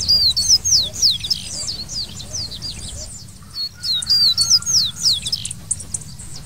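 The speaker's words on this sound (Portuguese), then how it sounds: "foi tocado o playback para tentar atrair o papacapim" Recorded birdsong played back outdoors to attract a papa-capim seedeater: repeated bright, rapid chirping phrases in two main bursts with a short gap, over a low steady background rumble.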